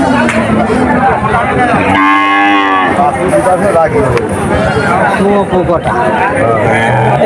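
Cattle at the Pahardanga cow market, where a cow is being milked, give a loud, drawn-out moo amid a busy crowd with constant talking and chatter.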